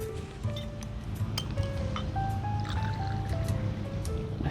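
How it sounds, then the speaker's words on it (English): Vodka is poured into a glass of ice and fresh orange juice for a Saratoga Sunrise cocktail, making a continuous close liquid gurgle and fill sound with rising pitch and light clinks of ice. No one speaks. "And then we're going to do about 2 ounces of our favorite vodka."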